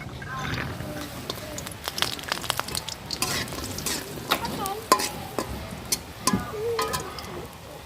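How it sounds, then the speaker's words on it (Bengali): Mash kalai lentil dumplings fry in hot oil in a home kitchen, with a moderate sizzle and scattered clinks and scrapes of a utensil, while voices talk nearby over the cooking. "তেল গরম হয়ে গেছে, প্রথমে মাসকালাইয়ের বড়ি ভেজে নেব"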